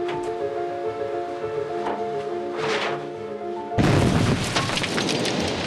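Dynamite blast breaking rock on a high Andes mountain road in Peru, a sudden heavy broadband roar that erupts after a steady rumbling background and sustains loudly to the end.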